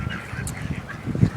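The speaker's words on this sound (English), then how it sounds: "And goose." A goose honks among ducks at an outdoor bird-feeding spot, a few honking calls with the loudest burst near the end over low rumbling background noise.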